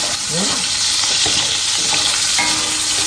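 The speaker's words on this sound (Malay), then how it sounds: "Goreng sedikit saja, udangnya dah agak kemerah-merahan" Shrimp for mee sup briefly frying in a hot pan until turning reddish, a steady loud crackle with occasional clinks and scrapes of stirring.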